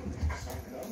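A dog whines and whimpers in short complaining bursts, fairly close, with low panting-like breaths underneath and no talking.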